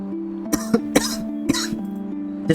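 A few sharp, dry coughs in quick succession over a steady low hum, close and distinct.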